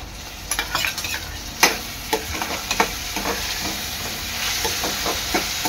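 Onion and tomato cooking together in a pan for a mushroom chana dal, giving a steady soft sizzle and hiss with scattered spoon-scraping stir clicks, close and moderately quiet, no voices.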